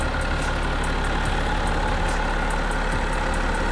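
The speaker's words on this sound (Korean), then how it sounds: "엔진 소리도 일정하네요" A BMW X6 xDrive 30d diesel engine idles steadily at close range, a constant low rumble with a faint regular ticking and no voices.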